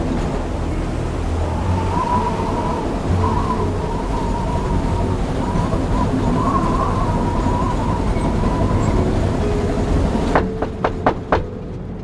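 A moving train rumbles along its rails with a steady, loud clatter and faint squeals from the wheels, then a few sharp knocks or clacks near the end.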